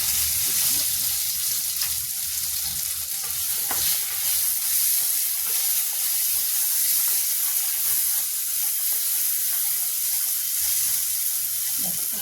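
Stuffed okra sizzles steadily in a hot kadai pan, a continuous bright frying hiss with soft stirring scrapes, fairly loud and close, with no talking.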